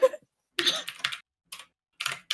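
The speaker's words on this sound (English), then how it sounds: "Whoever's typing, we can both hear you and probably see you." Computer keyboard typing during an online game session, short clustered bursts of key clicks separated by pauses, close and fairly faint with no talk over it.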